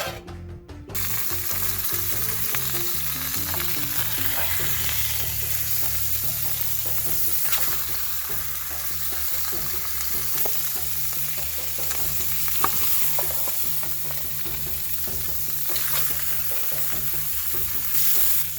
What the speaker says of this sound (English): I seasoned the meat with salt and pepper and then pan fried them on high for about a minute or so on each side